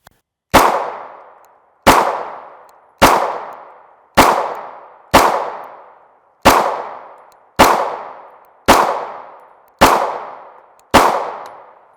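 Ten sharp, loud gunshots from a 4-inch Glock 19 Gen 4 MOS pistol firing 9mm 124gr FMJ rounds, evenly spaced about a second apart, each with a short ringing decay and no talk.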